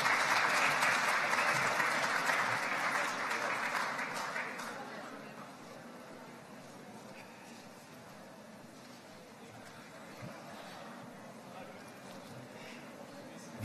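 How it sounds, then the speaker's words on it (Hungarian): A large crowd applauds at a 2015 nature photography awards ceremony, loud sustained clapping for the first four seconds that then fades to a quieter, thinner patter with a murmur of the hall beneath. "És most egy nagy tapsot."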